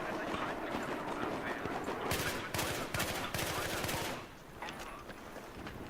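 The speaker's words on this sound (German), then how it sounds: "Und wir werden von der Gegenseite beschossen." Enemy gunfire in Battlefield 3, a rapid burst of automatic shots rattling for about two seconds in the middle of a busy battle soundscape, with other distant combat noise around it.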